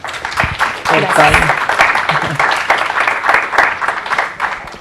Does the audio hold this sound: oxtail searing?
no